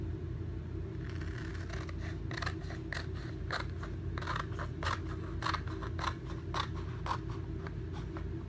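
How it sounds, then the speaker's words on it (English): Scissors cut a Chalk Couture chalk transfer sheet apart along its guide lines, a rapid series of crisp snips close by over a quiet steady rumble. "So let me grab my scissors."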